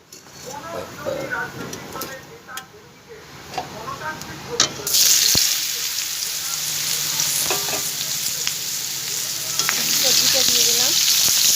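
Cumin seeds fry in hot oil for a ridged gourd, potato and prawn curry, starting with light crackle and scraping, then turning into a loud steady sizzle that continues to the end.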